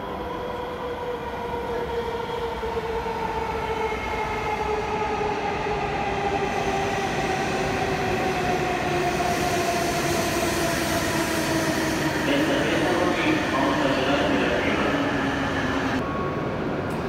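A Hokuriku Shinkansen Kagayaki high-speed train rolls into a station with a loud, steady rumble and a high whine that slowly drops in pitch as it slows, with faint squeals near the end.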